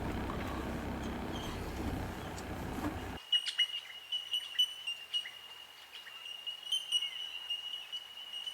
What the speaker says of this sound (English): Just listen to those birds.